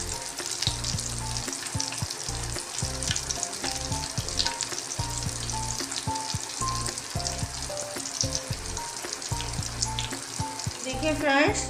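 Dahi bhalla batter frying in oil over a slow flame, giving a continuous close sizzle and crackle with occasional stirring clinks and scrapes.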